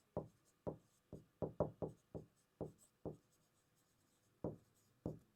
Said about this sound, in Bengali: আমরা লিখবো যে